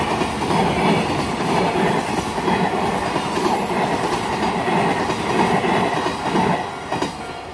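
A freight train on the JR Ou Line rumbles past a level crossing close by, a steady heavy roar with rhythmic wheel clatter over the rails, holding loud throughout before easing slightly.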